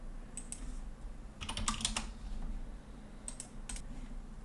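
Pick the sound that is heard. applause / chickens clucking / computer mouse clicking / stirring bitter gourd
computer mouse clicking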